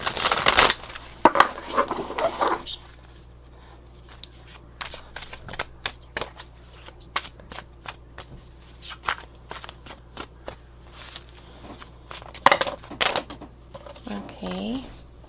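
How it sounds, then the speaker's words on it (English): Tarot cards are shuffled by hand in repeated bursts of riffling and flicking, close and crisp, alternating with quieter pauses and brief talking. "Let's shuffle these cards."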